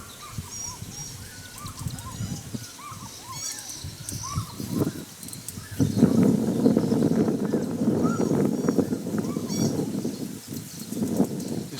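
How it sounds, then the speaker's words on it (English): Birds calling and chirping on Namalus Island in Lake Victoria, Uganda, scattered short calls in the open air, joined midway by a broader rustling wash of outdoor noise. "The sounds of birds."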